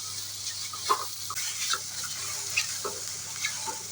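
Ridge gourd and onion fry in a pan with a steady soft sizzle, broken by a few light scrapes and clinks of a spoon stirring, close and alone with no voices.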